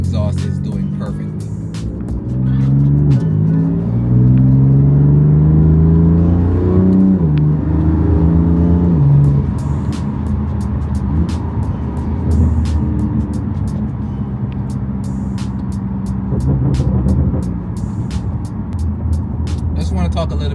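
A BMW M4 Competition fitted with a Dinan exhaust revs up close by, its engine note climbing and wavering before settling into a loud, steady drone for the rest of the clip.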